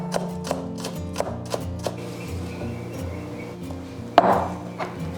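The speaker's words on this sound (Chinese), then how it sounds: "我们切葱花。" A knife chops green onions on a cutting board in a home kitchen, giving a steady series of crisp, close knocks about every third of a second, with one louder thud near the end.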